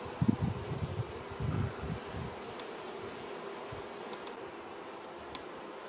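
Honey bees hum around an opened hive during queen-grafting work, a dense continuous buzz with a few louder close passes early on and light rustling handling noise.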